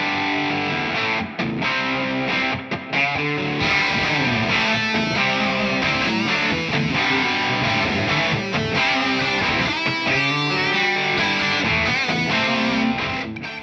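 A Schecter electric guitar played through heavy distortion, a loud, dense run of riffs and sustained chords lasting over thirteen seconds with no talk over it.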